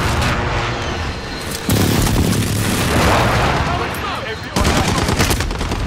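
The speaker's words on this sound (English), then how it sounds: "Friendly precision airstrike on the way." Precision airstrike explosions in Call of Duty: Modern Warfare, a loud continuous roar of booms and gunfire that swells in the middle and surges again near the end, with heavy low rumble throughout.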